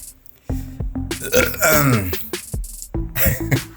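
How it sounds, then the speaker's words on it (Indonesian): A loud, drawn-out burp rumbles up close for about a second, followed by a short pause in a quiet room while someone talks around it. "Sendawa gue, sorry."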